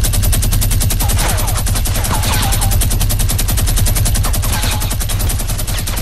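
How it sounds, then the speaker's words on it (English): Minigun in a video game firing one unbroken, very fast and loud burst that runs the whole stretch without pause, with no talk over it. "I'm just gonna pull up my minigun though"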